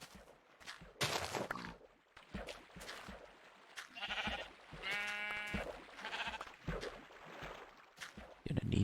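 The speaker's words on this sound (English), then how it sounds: "Gonna need that sheep to not jump all over my crops." Sheep bleating in Minecraft Beta, a few short bleats near a farm plot, heard among game sounds and talk in between.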